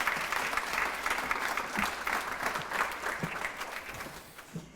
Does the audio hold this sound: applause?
yes